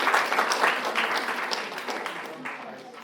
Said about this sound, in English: Can we get an applause for them?